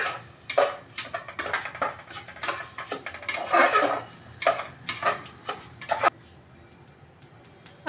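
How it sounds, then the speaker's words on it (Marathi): Rice is stir-fried in oil in a pan, heard as irregular scraping and metallic clinks of a utensil against the pan, fairly close, that stop abruptly near the end and leave quiet. "तांदूळ हे आपल्याला छान तेलामध्ये परतून घ्यायचं आहे।"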